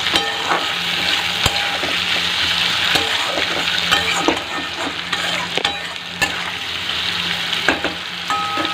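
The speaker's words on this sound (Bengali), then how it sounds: "আলু ভাজা।" Steady, dense sizzle of potatoes frying in oil, with occasional sharp clicks and scrapes of stirring throughout, no talking.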